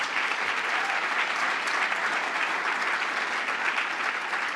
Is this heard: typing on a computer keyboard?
no